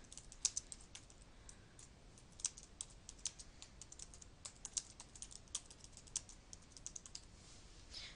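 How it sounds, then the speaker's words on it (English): Quiet, irregular clicking of fingers typing on a computer keyboard, with brief pauses between short bursts of keystrokes and no voices. "So I typed in my little caption"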